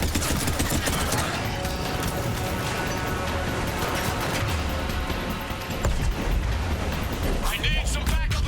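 Sustained gunfire in Mass Effect 3 fills the whole stretch as a dense, continuous barrage of overlapping shots and impacts, loud and close, with voices talking over the fighting.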